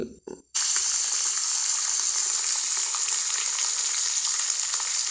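Camel meat drops into hot oil in a pan with whole spices, bursting into a loud, steady sizzle close by after a couple of brief clatters.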